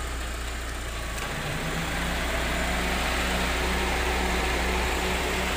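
A car engine idles steadily with its air-conditioning compressor running after aircon pipe work, giving a low, even hum with a faint rhythmic drone, close and unbroken, with no voices.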